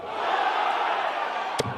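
A darts crowd at the Grand Slam of Darts murmurs and roars in a sustained, loud wash of voices, broken near the end by one sharp knock.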